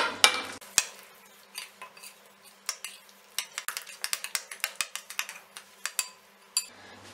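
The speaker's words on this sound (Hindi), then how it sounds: "ये हमने अच्छे तरीके से मिला दिया।" A spoon clinks and scrapes against a bowl while mixing a marinade for Bihari pasande, a steady run of close, crisp taps and stirs with no voices.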